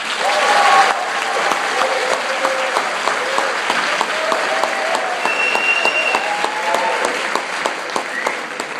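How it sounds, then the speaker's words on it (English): Families and guests at an adult education graduation ceremony applaud in steady, loud clapping that fills the hall, with scattered whistles and cheers rising over the sustained ovation. "let's give them a round of applause"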